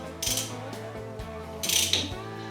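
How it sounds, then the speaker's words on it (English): A socket wrench ratchets on a nut, with two quick bursts of bright clicking, the second longer, over a steady low mechanical hum. "Got our sockets finally, and we're ready to pull it off."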